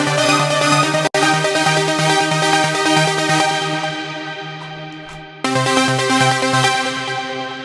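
Three layered trance synth parts play together in Ableton Live, a dense, bright harmonic stack with a steady low bass pulse, briefly cutting out twice and fading in the top end before returning full and loud.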